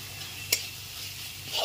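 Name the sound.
ginger garlic paste frying with onion paste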